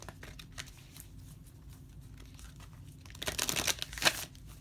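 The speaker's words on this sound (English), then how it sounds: "One more shuffle." A deck of tarot cards is shuffled at a table, a soft papery rustle building into two brisk, crisp riffling bursts near the end, fairly close and alone.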